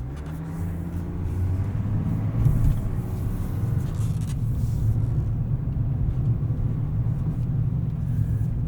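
A 2024 Chevrolet Silverado 1500 ZR2 pickup with a 3.0L Duramax diesel rolls along on aggressive all-terrain tires, giving a steady low rumble of engine and tire drone heard from inside the cab.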